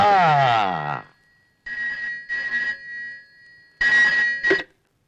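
A telephone rings in loud, close bursts with short silent gaps between them, following a brief whooshing swoop at the start.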